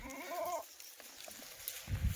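A single short Kathiawadi goat bleat sounds at the start, followed by quiet background rustles and a soft thump.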